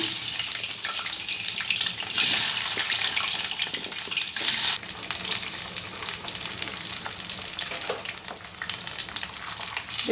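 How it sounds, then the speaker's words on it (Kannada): Ivy gourd pieces dropped into hot oil for pickle, giving a steady, loud, hissing sizzle that runs throughout, with brief swells of sharper crackling early on and no talking. "ಈಗ ಎಣ್ಣೆ ಕಾದಿ ಕಾದಿದೆ ಈಗ ತೊಂಡೆಕಾಯಿ ಹಾಕ್ತಾಯಿದ್ದೀನಿ"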